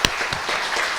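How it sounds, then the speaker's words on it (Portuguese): A church congregation claps in a short, dense burst of applause, with one sharp clap standing out at the very start. "pode aplaudir o Senhor Jesus"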